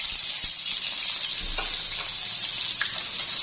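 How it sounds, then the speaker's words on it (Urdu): Three medium onions sizzle in hot oil in a pan, a steady close hiss of frying with faint scattered pops and stirring clinks throughout. "ہم نے پین میں آئل ڈال دیا اور 3 درمیانے سائز کے ہم نے پیاز دیے تھے، وہ ڈال دیں گے"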